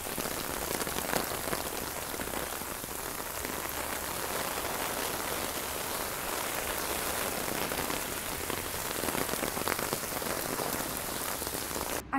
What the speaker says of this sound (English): I started walking home in the pouring rain.